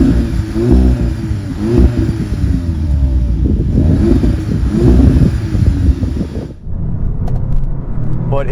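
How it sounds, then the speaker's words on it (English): A 2015 Audi S3 with a turbocharged four-cylinder accelerates, its induction and exhaust note swelling in repeated surges under buffeting wind noise, then cutting off abruptly near the end before a quieter rumble resumes. "It has a pretty standard turbo 4-cylinder induction and exhaust note to it."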